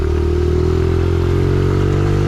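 A Honda CRF 110 mini dirt bike engine runs close and loud with a steady, buzzing drone, its pitch creeping slightly upward as the revs build.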